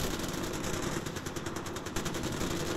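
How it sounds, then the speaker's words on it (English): Rapid automatic gunfire at a shooting range in Far Cry 4, a dense, loud stream of rattling shots continuing throughout with no talk. "that's just a shooting range"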